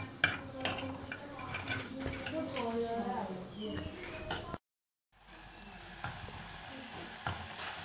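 Fenugreek seeds frying in oil in a pan for a dry fish curry, stirred with a spoon that clinks and scrapes against the metal over a light sizzle; a brief silent gap, then a steadier hiss resumes.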